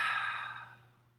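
A single deep breath, a soft, close exhale like a sigh that fades out over about a second.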